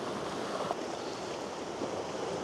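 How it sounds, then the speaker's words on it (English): Ocean waves roll and break along the Cornwall coast at Godrevy, a broad continuous wash of surf at moderate distance with some wind mixed in, no voices. "These waves are coming in pretty strong now."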